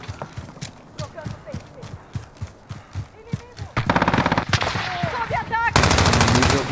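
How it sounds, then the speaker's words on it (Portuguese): Gunfire in the Call of Duty Modern Warfare battle royale video game, a run of rapid rhythmic shots that grows into denser, louder bursts, with a player talking over it. "Estão atirando em mim!"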